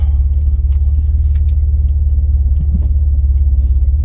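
Alfa Romeo GTV on a test drive with a window open, giving a steady low engine and road rumble that stays loud and constant throughout.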